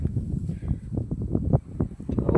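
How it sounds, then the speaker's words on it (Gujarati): Strong wind buffets the microphone in an open field during kantola picking, a steady low rumbling roar with gusty swells and no speech. "અવાજમાં થોડોક ફેર પડશે કારણ કે પવન બહુ છે અહીંયા"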